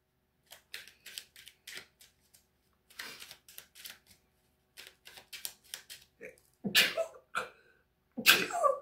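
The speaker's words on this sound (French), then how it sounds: "Eh bien, ça, c'est de l'éternuement." Two loud sneezes burst out near the end, following soft scattered clicks and rustling in a quiet room.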